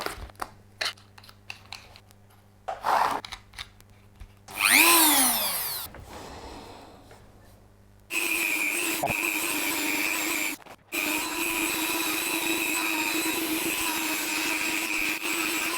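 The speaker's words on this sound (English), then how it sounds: "For the cleanup, I'm going to use these Scotch-Brite abrasive wheels and of course my trusty Dremel." A Dremel rotary tool fitted with Scotch-Brite abrasive wheels sands a 3D-printed hand-shaped pencil holder, whirring loudly and steadily with brief interruptions, after earlier scattered handling noises and a short high whine.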